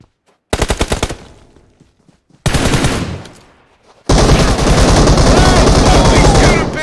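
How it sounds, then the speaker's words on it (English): Bursts of automatic gunfire from a first-person shooter video game, two sharp short volleys followed by a long, loud sustained stream of rapid shots filling the end. "I'm getting shot by a bot over here, bro."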